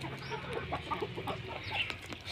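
Native breed hens and roosters on a farm give soft, steady clucking from several birds at moderate distance, with a constant low farmyard hum.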